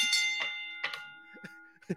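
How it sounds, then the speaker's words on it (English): A bell sound effect, a bright sustained ding with a long ringing tail, plays close and clear as voices in a casual podcast-style debate briefly interject. "Hit the Tyson bell."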